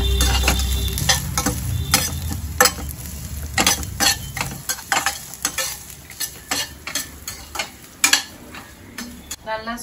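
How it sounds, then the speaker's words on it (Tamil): Grated coconut dry-roasting slowly in a pan for chicken salna, with a soft sizzle and frequent sharp clicks of a spoon stirring and scraping, close and steady, heavier low rumble in the first half. "நல்லா ஸ்லோவில் வச்சு ஒரு 3 to 4 minutes இதை நல்லா மெதுவாக வறுத்து அது நிறுத்திடலாம்."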